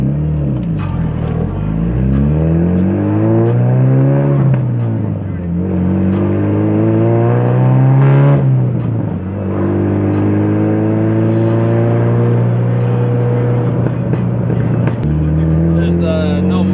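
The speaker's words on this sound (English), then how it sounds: "There's no muffler and there's no, well, basically the exhaust is just all the way straight through." A turbocharged Honda Civic with a straight-through exhaust and no muffler revs hard from inside the cabin, its engine note climbing and falling through repeated loud pulls, with people talking over it.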